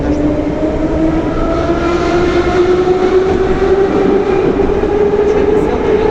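A Moscow metro train moves through a station during the metro's 90th-anniversary train parade, a loud continuous rumble with a rising motor whine and rail noise, close by and dominating throughout.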